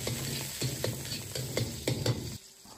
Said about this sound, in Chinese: 锅中留少许的油，下入切好的姜葱，